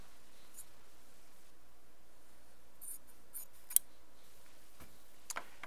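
Scissors snip through a fabric strip for a jelly roll quilt, a few quiet, sharp cuts spaced apart in an otherwise hushed room.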